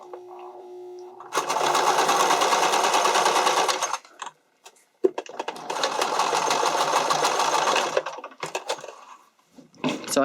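A sewing machine zigzag-stitches two bikini top straps together, running in two loud sustained bursts of roughly three seconds each with a short pause between, then brief stops and starts at the end.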